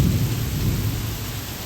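Heavy rain pours steadily during a thunderstorm in Bocas del Toro, Panama, with a deep low rumble of thunder beneath the dense, continuous hiss of downpour.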